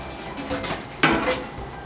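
A frying pan being handled in a home kitchen while potatoes cook, giving a few metallic clanks and knocks with one sharper bang near the middle, heard close up.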